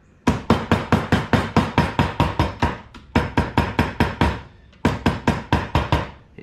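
Rapid hammer blows knock bent wire straight on a workbench for making fishing sinkers, loud close metallic taps in three fast, even bursts separated by brief pauses.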